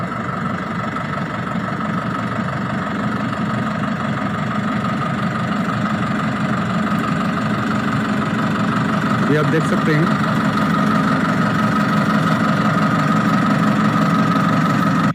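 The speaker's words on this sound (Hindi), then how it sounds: "अभी देखिए ट्रैक्टर रिवर्स पे आ रहा है तो PTO भी रिवर्स पे घूम रहा है।" A tractor engine idles with a steady, loud low rumble and rattle throughout while its ground PTO shaft turns in reverse with the tractor reversing, and someone speaks briefly in Hindi over it.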